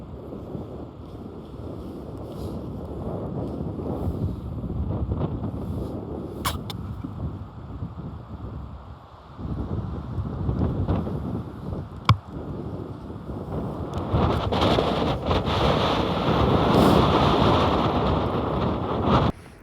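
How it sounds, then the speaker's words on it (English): Strong wind buffets the microphone on an open ridge top during a Montana mule deer hunt, a steady roaring rumble that surges louder toward the end with a couple of sharp gust thumps. "we are still up here on this like ridge top, so the wind's just playing havoc with us"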